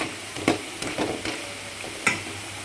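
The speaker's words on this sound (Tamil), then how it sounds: "இந்த வாழைத்தண்டு பக்கடா பொறிக்கிறதுக்கு வந்து எண்ணெய் காஞ்சோடனே டக்குன்னு நீங்கள் சிம்மில் வச்சாக்கணும் அடுப்பை" Banana stem pakoda pieces frying in hot oil over a low flame, a steady close sizzle broken by a few sharp crackling pops and stirring bursts, with no talking.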